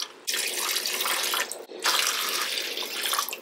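Water pours steadily from a tap into a container of pasta for an air-fryer meal, a full broadband rush with two brief breaks, close and alone with no talking.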